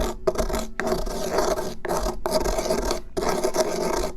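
A makeshift pestle grinds homemade toothpaste ingredients into fine powder in a bowl, a loud raspy scraping repeated in several circular strokes with brief pauses between, close and alone.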